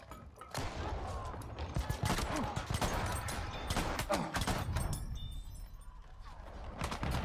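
Shotgun blasts in Battlefield 1 on the Argonne Forest map, several loud sharp reports over a dense, continuous wash of battle noise and distant gunfire.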